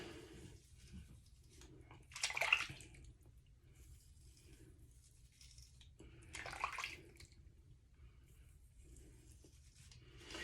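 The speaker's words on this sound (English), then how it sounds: "Rinse that razor good in the hot water every time" A razor rinsed under hot running water at a sink while shaving, two short splashing bursts about four seconds apart over quiet tap noise, with no talking.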